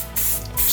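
XCP rust blocker clear coat hisses from an aerosol can onto a car part during a 1996 BMW E39 suspension overhaul, two short close bursts of spray.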